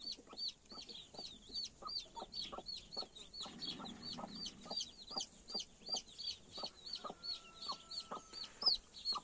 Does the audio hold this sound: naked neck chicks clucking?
yes